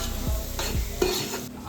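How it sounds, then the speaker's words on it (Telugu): Onions being stirred as they fry toward golden brown in a pan for an Andhra-style fish curry, a steady sizzle broken by repeated scraping strokes of the spoon, close and with no talking. "గోల్డెన్ బ్రౌన్ వచ్చేదాకా ఆనియన్స్ను అలా అలా కలిపుకోవాలి"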